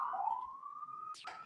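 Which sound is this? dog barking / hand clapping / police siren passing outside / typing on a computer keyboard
police siren passing outside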